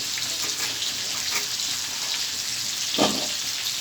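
Potatoes and pumpkin fry together in a pan with a soft, steady sizzle, and a single louder splash or stir rises near the end.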